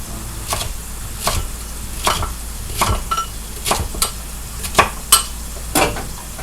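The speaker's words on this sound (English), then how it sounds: "We're going to chop them." Carrots chopped with a knife on a board in a home kitchen give crisp, evenly spaced single chops, about one every second, fairly close and clear with no talking.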